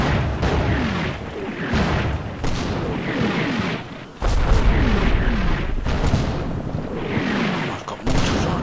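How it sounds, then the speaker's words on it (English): Repeated heavy booms of mortar fire in Combat Mission: Battle for Normandy roll over a constant rumbling din, with one sharper, louder impact near the middle. "I've got mortar fire coming."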